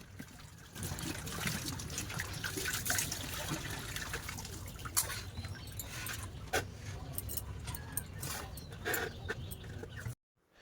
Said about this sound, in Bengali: আর প্রচুর জল বেরিয়ে আসে ওই জন্য অনেক কষ্ট করে ভরে নিতে হয় এভাবে